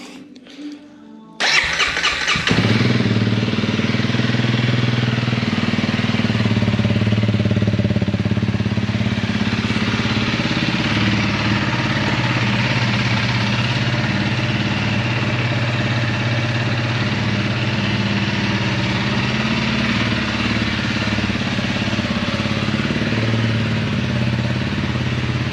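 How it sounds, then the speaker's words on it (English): A Honda CRF 300L motorcycle cranks and catches with a sudden burst after a short quiet pause, then settles into a steady, close, even idle that runs for over twenty seconds. "Let's fire her up and see what she starts like."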